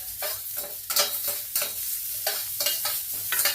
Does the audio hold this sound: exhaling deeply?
no